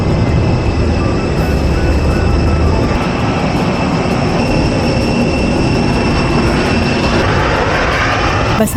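A Scoot Airbus A320 narrow-body jet at Jeju International Airport gives off a loud, continuous engine roar and whine close by, steady throughout.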